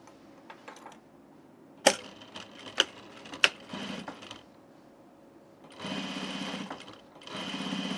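A sewing machine stitches along the top edge of an unlined Auburn blazer, running in close, steady bursts with short pauses between them and a few sharp clicks from the work before.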